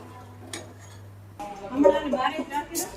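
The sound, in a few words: spoon mixing potatoes and chickpeas in a pot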